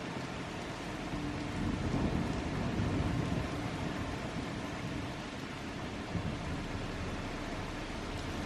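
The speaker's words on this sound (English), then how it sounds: "This is too rainy and noisy." Rain falling outdoors, a steady, dense hiss that stays loud and continuous throughout, with no voices over it.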